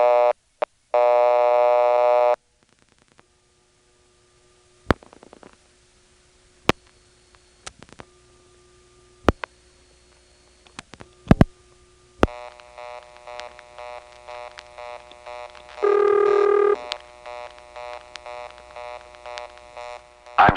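A 1978 Siemens motor-switch telephone exchange in Ocala-Silver Springs, Florida answers a three-digit vacant code. Short tone bursts come first, then a series of sharp clicks and relay ticks, then a longer stretch of buzzing tones with a loud tonal burst near the end.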